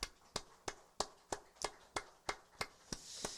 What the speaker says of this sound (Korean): 할렐루야. 영예 박수 올립니다.